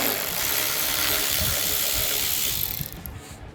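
A ratchet with a 7mm socket backs out small painted, silicone-covered factory bolts on a Ford F250 roof, giving a steady close-up run of fast clicking that fades out near the end.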